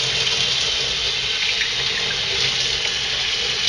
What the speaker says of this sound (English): let me wash this off because I see some dust on the lid